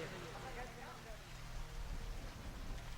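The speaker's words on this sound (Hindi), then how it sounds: "देखो क्या वर्षा हो रही है" Rain falling steadily during an outdoor Bhagwat katha gathering, a broad even hiss of drops with low rumbling beneath, continuous and moderately quiet throughout.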